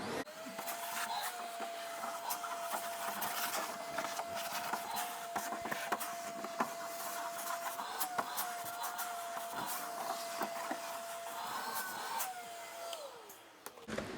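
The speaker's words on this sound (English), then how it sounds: "I'm just going to vacuum this out and clean it real good" A shop vac runs continuously while vacuuming debris out of an xTool D1 laser engraver, a steady whining drone with its pitch dipping near the end, and scattered clicks and rattles as bits get sucked up, moderately loud and alone.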